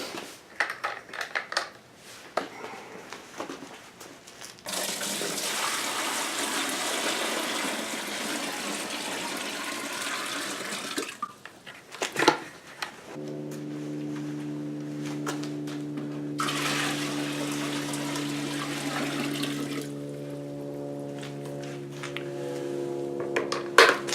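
Water from a bucket is poured into a washing machine drum inside a Roadtrek camper van, heard as two steady splashing pours, each lasting several seconds and separated by short clattering handling sounds, with a sustained tone running through the second pour.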